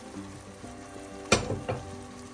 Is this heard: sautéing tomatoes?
yes